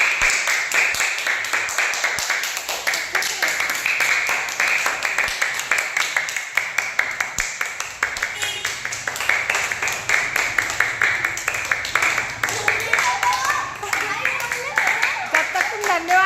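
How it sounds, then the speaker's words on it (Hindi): An audience at a school event claps steadily and rapidly as a student speaker comes onto the stage to give a Sanskrit speech, while voices talk over the applause. "तालियां"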